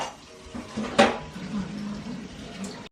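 Pots and pans are washed at a kitchen sink. Metal clanks, with one sharp clatter near the middle, under faint running water and a low, quiet voice.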